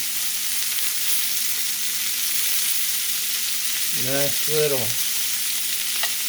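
Pork chops sizzle steadily in a cast iron pan, a continuous close crackling hiss with a brief stirring or scraping shuffle partway through.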